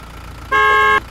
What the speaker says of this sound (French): J'ai klaxonné. J'ai trouvé le klaxon.